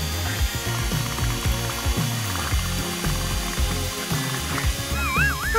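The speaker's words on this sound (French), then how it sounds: "Il est temps de retirer le bol du bain-marie et de le mélanger à nouveau en utilisant un batteur à main" An electric hand mixer whirs through a cheesecake mixture with a strained mechanical grinding whine, its pitch and load shifting unevenly as the beaters work, close and loud.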